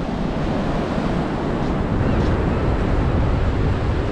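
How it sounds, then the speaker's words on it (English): Ocean surf rolls in steadily at Scheveningen beach in The Hague, a loud, continuous broadband wash of waves with wind buffeting the microphone and no talk. "the sound of the ocean, which I love"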